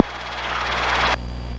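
Training helicopter in flight near an airport traffic pattern, a loud, close, steady engine-and-rotor roar with a pulsing beat that ends abruptly partway through.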